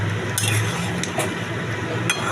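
Bhetki fish curry is stirred in a pot with a metal utensil, giving a few scattered clinks and scrapes against the pot over a low, steady background hum.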